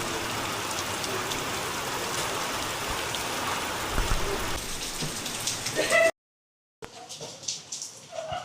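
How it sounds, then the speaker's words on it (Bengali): Hailstorm with hail and rain falling outdoors, a dense, loud, continuous wash of pelting drops and patter that cuts off abruptly and then resumes more faintly. "অনেকদিন পরে আর শিলাবৃষ্টি হলো"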